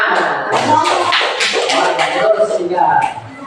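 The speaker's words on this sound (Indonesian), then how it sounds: "Iya, beri tepuk tangan." A classroom group joins in a spirited, rhythmic clap during a lesson. Loud, sharp claps come in quick bursts, mixed with voices talking and calling out.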